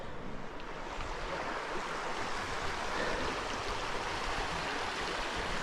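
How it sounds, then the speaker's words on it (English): A river flows at Cathedral Cave as a steady, broadband rush of water, constant and moderately loud throughout, with some wind noise and no voices. "It's the river."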